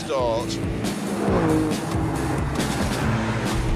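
An Alfa Romeo Stelvio with a biturbo V6 launches hard in a drag race, its engine roaring and rising in pitch close by. Excited commentary runs over the sound throughout.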